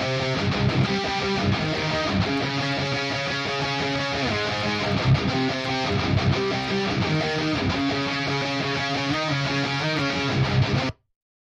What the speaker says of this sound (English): So I've taken a riff out of one of my other songs just to use as an example.